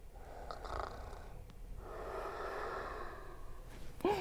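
A person imitates snoring with heavy, rasping breaths, a short snort near the start, then a long drawn-out exhale, close and fairly quiet.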